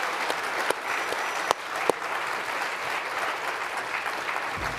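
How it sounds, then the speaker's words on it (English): Applause for panelists after a fashion show keynote panel, a crowd clapping steadily at moderate distance, with a couple of sharp close claps standing out early on. "Let's give another round of applause for our panelists here."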